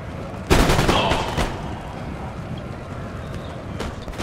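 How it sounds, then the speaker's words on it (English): A massed musket volley from many guns in Napoleon Total War on a Pyramids battlefield: one loud, crackling burst near the start that rolls off into a low rumble, with a fainter crack near the end. "Or 85 guns shooting at once."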